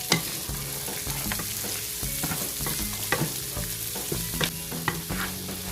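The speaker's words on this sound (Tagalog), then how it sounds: "I will add the onion and mix it up together" Onion and ginger fry in a pan with a steady, close sizzle while a utensil stirs and scrapes through them in frequent light clinks and knocks.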